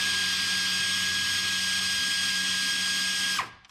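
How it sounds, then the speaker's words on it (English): An air ratchet runs bolts on a Saturn car with a steady, loud pneumatic whine and buzz, held close for over three seconds before spinning down abruptly. "I'm just going to run them up here with my air ratchet"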